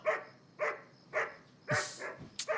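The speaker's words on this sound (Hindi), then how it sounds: "अरे क्यों भौंक रहा है?" A dog barks four times at night, in evenly spaced, fairly close barks, the last one sharper and followed by a short yip.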